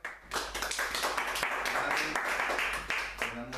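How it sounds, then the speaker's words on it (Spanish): A church congregation claps together after a sermon, a steady run of loud, crowded handclaps that lasts a few seconds, with a voice coming in near the end. "démosle un aplauso al Señor"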